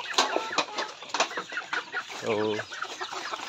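Shamo chickens cluck while being fed corn grits, a busy run of short close clucks with one longer harmonic call near the end; a voice speaks briefly.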